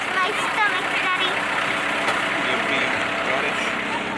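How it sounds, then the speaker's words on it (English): A tractor engine runs steadily on a family farm, a continuous rumble heard from close by. People talk over the engine noise throughout. "All right, we're on a tractor."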